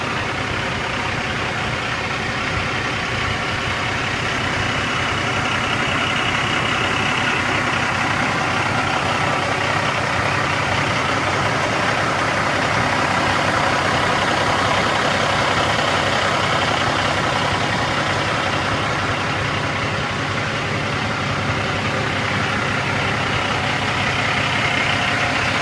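A 2004 International Eagle 5500 dump truck with air suspension idles nearby, its diesel engine giving a steady, even rumble that stays constant for nearly half a minute with no voices.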